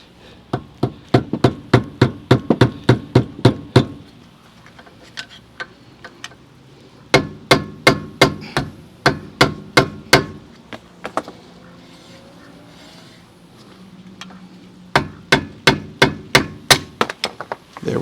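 Hammer strikes on the old brake dust cap of a Mercedes wheel hub, sharp metallic blows in fast bursts of about ten to twelve hits separated by short pauses, loud and close with no talking.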